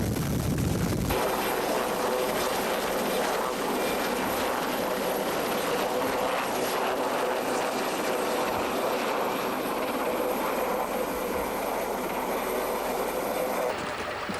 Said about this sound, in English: A helicopter is called in to airlift them to the top.